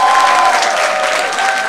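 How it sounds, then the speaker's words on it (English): A crowd at a boxing fight night gives a dense, loud round of applause, steady clapping with a faint cheer mixed in that continues throughout. "Round of applause for her,"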